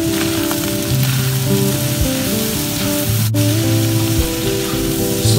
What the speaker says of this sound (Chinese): 炒的差不多了，我们再把蒜放进去